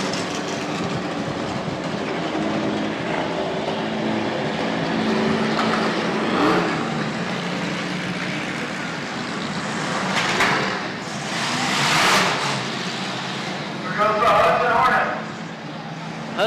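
Race cars circle a fairground track during a mock race at a grand re-opening, engines droning and swelling as they pass, with a voice talking over the rumble most of the time.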